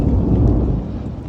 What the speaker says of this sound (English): Now it's thunder and fucking lightning.